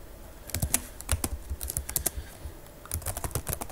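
Someone types code on a computer keyboard, quick irregular bursts of close key clicks with brief pauses between them, no voice.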